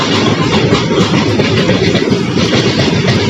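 A long goods train rolls past the platform at Karimnagar railway station, a loud, continuous rumble and roar with no break and no talking.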